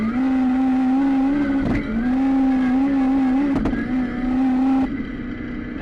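A Mk1 Golf drag car screams down a drag strip at full throttle, its engine note holding a loud, steady howl broken by two sharp gear-change pops before it drops off at the end.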